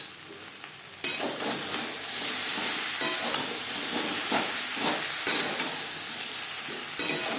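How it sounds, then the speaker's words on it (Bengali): Potato and raw banana are stir-fried with roasted spice mix, giving a loud steady sizzle with repeated scraping strokes of a spatula against the pan, kicking in abruptly after a quieter opening second. "আলু কাঁচকলার সাথে ভাজা মশলা বেশ ভালো করে মিক্স করে দেবো।"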